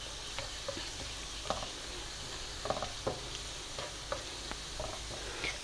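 A spoonful of white cumin seeds frying in oil for an aloo palak methi dish, a soft continuous sizzle with scattered light stirring taps and scrapes, close and fairly quiet.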